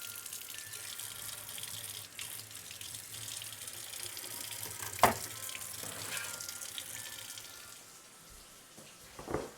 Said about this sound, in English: I'm going to go ahead and quickly wash off my cutting board and knife.